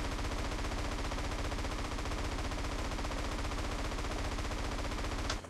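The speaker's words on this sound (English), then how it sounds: "I'm just shooting like crazy here" Sustained automatic gunfire from GTA San Andreas gameplay, a dense, rapid rhythmic burst of shots running continuously and loudly for several seconds before cutting off abruptly at the end.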